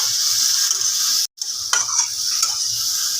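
Eggplant being stirred in a frying pan for a mash: a close, bright sizzle with soft scraping strokes of the spoon, cut by a brief moment of silence partway through, no one talking.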